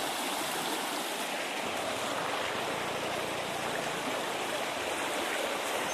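A mountain stream near a highland market rushes as a dense, continuous, close wash of water that fills the whole stretch, with no voices.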